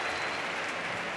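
A crowd at a K-1 kickboxing event in Madrid applauds in a dense, steady wash of clapping that fills the arena throughout.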